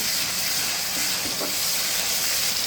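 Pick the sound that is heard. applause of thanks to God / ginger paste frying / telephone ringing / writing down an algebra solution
ginger paste frying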